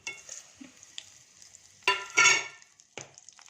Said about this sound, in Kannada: ಒಂದು ಪಾತ್ರೆಗೆ ಮೂರು ಸ್ಪೂನ್ ಆಯಿಲ್ ಹಾಕಿದ್ದೀನಿ ಇವಾಗ ಸಾಸಿವೆ ಒಣಮೆಣಸಿನ್ಕಾಯಿ ಎರಡು ಕರ್ಬೇವಿನ ಸೊಪ್ಪು ಹಾಕ್ತಾಯಿದ್ದೀನಿ